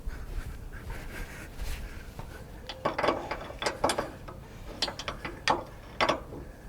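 A ratchet wrench cranks a car's toe arm adjuster with the car on the ground, giving irregular bursts of quick metallic clicks, close and clear, with a faint scuffing background and no speech.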